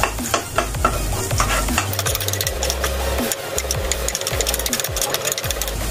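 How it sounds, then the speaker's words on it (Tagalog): Onions sauté in a pan, a steady sizzle of frying under repeated scraping and stirring strokes, close and continuous with no one speaking. "Ako po nagigisa, inuuna ko po talaga yung sibuyas para lumabas po yung kanyang lasa."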